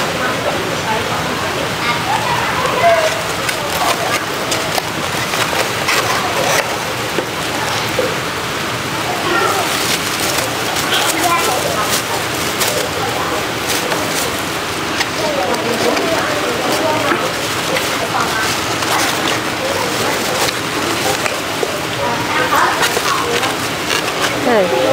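Steady outdoor rain hisses without a break, a dense, even wash of falling water heard close, while people keep talking over it as children gather to collect sausages and soft drinks.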